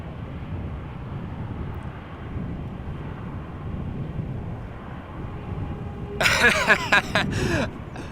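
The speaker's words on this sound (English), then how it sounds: "This is what you would call a typical KLM landing" A KLM airliner landing at Amsterdam Schiphol Airport produces a steady, muffled low engine rumble that carries throughout, with a brief burst of vocal noise near the end.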